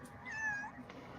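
A pet cat gives a single drawn-out meow, close and moderately loud, rising and falling over about a second with faint room noise behind it.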